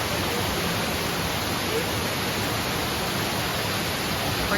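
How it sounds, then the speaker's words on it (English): Main waterfall at Glenariff Forest, a constant loud broadband rush of falling water heard up close, steady and unbroken with no voices. "So, the main waterfall."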